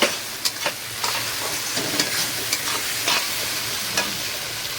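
Spice paste with salt and tomato fries in a pan, sizzling steadily while a spoon stirs and scrapes in repeated sharp strokes, close and clear.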